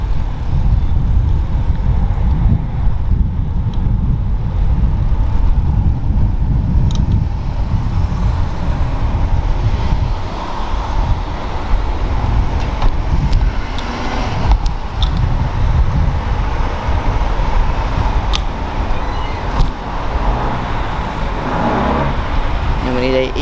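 Cars standing and crawling in a regular traffic jam, heard from a bicycle as a continuous loud engine and road rumble with idling and occasional revving, under intermittent talk.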